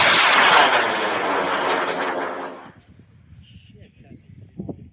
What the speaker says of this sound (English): we're going to launch your rocket in 5, 4, 3, 2, 1